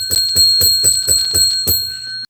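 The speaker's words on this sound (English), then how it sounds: "I got to ring the bell." Small metal bell rung in a quick series of about six sharp strikes, each with a bright ringing tone that lingers between hits, close and loud.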